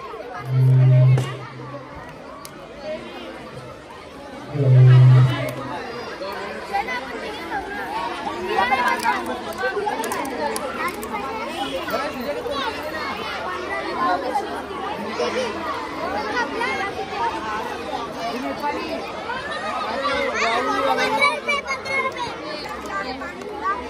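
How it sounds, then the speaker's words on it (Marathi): Crowd of children and adults chattering and calling out around a busy sweets stall at a school event, a steady babble of overlapping voices with two brief low thumps near the start. "सो गाईज तुम्ही बघू शकता स्वीटीच्या स्टॉलवर किती गर्दी आहे"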